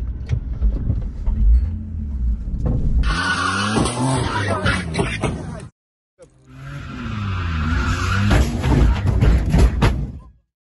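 A drifting car spinning out and crashing: a loud engine roar gives way to long screeching tire squeals, a brief cutout, then more wailing skids and revving up close.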